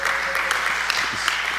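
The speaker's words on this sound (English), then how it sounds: "let's just give him an applause for that" A conference audience claps steadily for a speaker walking to the stage, producing a dense, even wash of applause with a faint voice briefly beneath it.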